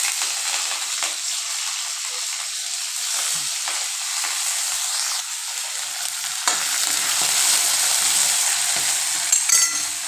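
Tomato chutney ingredients sizzle in hot tempering oil with a continuous frying hiss, which swells louder and crackles more sharply partway through, with occasional light stirring sounds.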